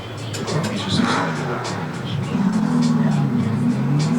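Video game car engine revving and accelerating with a rising, droning tone, loud and close throughout, while people talk over it.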